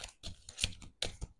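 Tarot cards being shuffled by hand, a run of soft papery riffles and taps in short uneven bursts, close and fairly quiet, with no talk over them.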